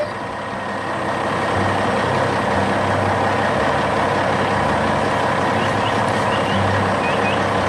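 A cartoon blue truck carrying a horse friend through a forest, driven by a bear, rumbles in a steady low engine drone with a faint intermittent beeping, loud and continuous with no voices.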